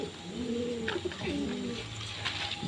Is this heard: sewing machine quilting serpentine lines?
no